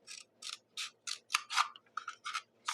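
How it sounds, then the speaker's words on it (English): Close, quiet snips of scissors cutting straight up the seam of a paper cup, about ten short crisp cuts in a fairly steady rhythm with no talk. "So then we're just going to cut straight up the seam."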